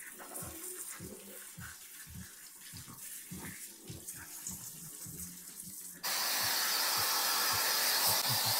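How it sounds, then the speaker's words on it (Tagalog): Shower water runs in a home bathroom, first as a muffled patter with rhythmic low knocks, then abruptly switching to a loud, steady close-up hiss of spray for the last few seconds. "Shower kayo, shower."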